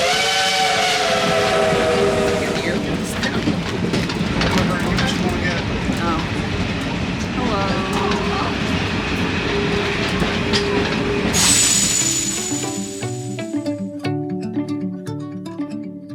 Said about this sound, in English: the steam locomotives are the same kind of Shea locomotives used in Cass